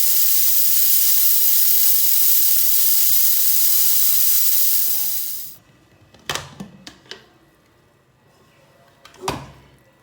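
A pressure cooker releases steam in a loud, steady hiss as its whistle is lifted off after beef cooking, then it stops abruptly, followed by a few sharp metallic clunks and taps.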